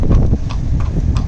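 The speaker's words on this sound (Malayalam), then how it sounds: "ഇതേ ഒരു കുതിരവണ്ടിയും ആൾക്കാരും കൂടി പോകണുണ്ട്" Horse-drawn carriage hooves clip-clopping on a city street in Malaga, Spain, a steady close rhythm of hoof strikes with crowd and traffic noise underneath.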